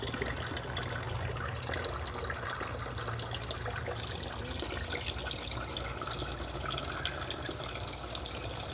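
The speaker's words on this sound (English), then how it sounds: "There's the gurgling." Water gurgles and trickles through a PVC pipe, pushing trapped air out at a repaired ball valve. The sound is a steady, faint, continuous bubbling wash that sits under a low background rumble.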